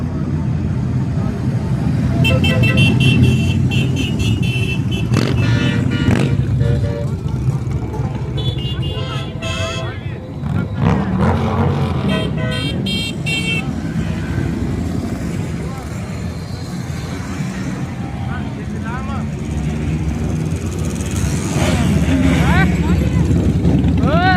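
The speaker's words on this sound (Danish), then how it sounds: "Så er der motorcykler." Motorcycles pass on a road, their engines roaring loudly and swelling and fading as they go by, while people talk over the continuous traffic noise.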